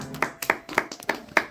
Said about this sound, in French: On sent que c'est des applaudissements de fin de saison